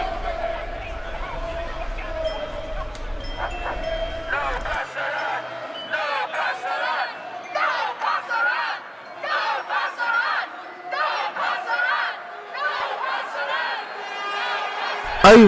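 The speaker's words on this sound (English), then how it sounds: "Oh right, they're the opposing crowds." Opposing crowds at a street protest chant in loud, rhythmic bursts of massed shouting, near and energetic. A low rumble drops away early, and the chant continues with brief pauses until a sharp thump at the end.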